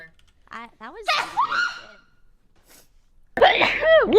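A person sneezes once, a loud, sharp burst near the end, after a second or so of quiet; breathy gasps and talk-like voicing come first.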